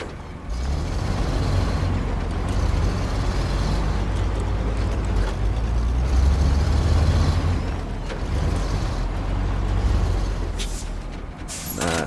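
Heavy truck in the SnowRunner video game, its engine droning steadily and loudly throughout with short hissing bursts of air brakes, no speech over it.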